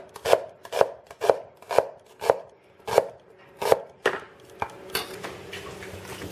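An onion is sliced on a cutting board with about ten crisp, evenly spaced knife chops, loud and close, slowing and softening into lighter taps at the end.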